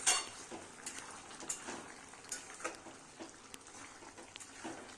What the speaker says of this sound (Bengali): এবার মশলার মধ্যে চানাটাকে আরও 2 মিনিট কষিয়ে নিতে হবে